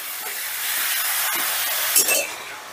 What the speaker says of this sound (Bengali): চিকেনটা বেশ ভালো মতন ভাজা হয়ে গেলে